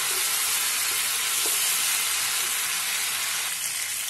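Chicken with black pepper fried in a pan, a steady broadband sizzle with faint scrapes of stirring, close and continuous with no voices.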